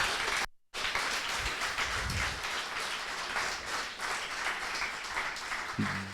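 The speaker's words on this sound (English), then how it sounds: "So I would like to have a huge round of applause for the organizers" Audience applause for event organizers at a DLR INNOspace livestream, steady dense clapping sustained across the whole stretch after a brief dropout near the start, moderately loud and without speech over it.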